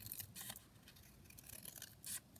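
Scissors trimming a paper page for a junk journal made from book and magazine pages, a few soft, close, quiet snips and rubbing cuts in short bursts.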